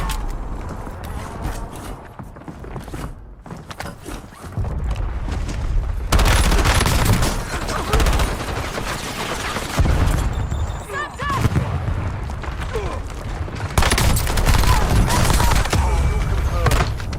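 Rapid bursts of gunfire during a video game squad shootout, near and loud, with fast overlapping volleys and a few heavier booms that come and go in waves over the whole stretch.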